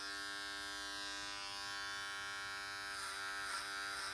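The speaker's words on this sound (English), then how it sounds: "we're just going to do clipper over comb" Electric hair clippers run clipper-over-comb through a full beard, giving a steady, close, droning buzz with a constant hum and slight changes in tone as the blades meet hair, without any speech.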